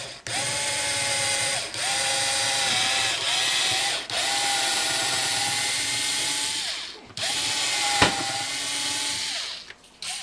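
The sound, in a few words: drilling a hole in a guitar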